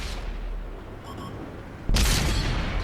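An IS-7 tank cannon fires in World of Tanks, a single sudden loud boom arriving near the end after a quieter rumbling stretch, then sustaining a heavy roar.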